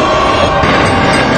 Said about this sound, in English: But beware of the second train.